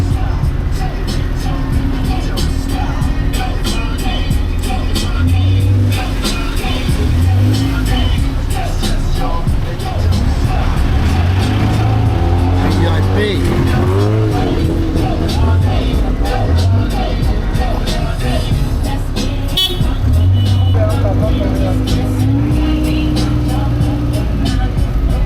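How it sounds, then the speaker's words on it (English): A tuk-tuk carries riders through the streets of Bangkok near Khao San Road, its engine droning steadily throughout with surrounding traffic and crowd noise in a loud, busy street scene. "Tuk-tuk to the hotel."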